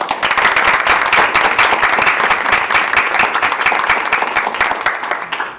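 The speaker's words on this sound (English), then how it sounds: "round of applause for us" Round of applause at a Board of Education meeting, loud sustained clapping from a room of people that tapers off at the end.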